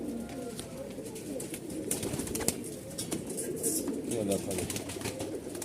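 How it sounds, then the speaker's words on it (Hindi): Malwai pigeons cooing in a loft, soft low coos running steadily under nearby chatter and rustling, with a voice speaking briefly over them. "मलबई कबूतर हैं जी ये"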